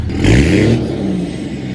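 A pickup truck with an aftermarket exhaust revs once from just outside the vehicle, a loud, gruff surge that peaks early and settles into a rumbling idle.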